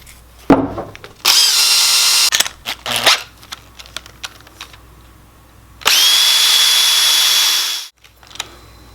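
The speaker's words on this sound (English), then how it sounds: "Let's check it up in the drill." A power drill spinning an Elevate Lutherie rolling pin sander whirs loudly in two long bursts with a sanding rasp, separated by shorter spurts and clatter, close up with no talking.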